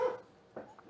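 A dog gives a short bark at the start, followed by a couple of fainter yips, heard at moderate distance in a quiet room.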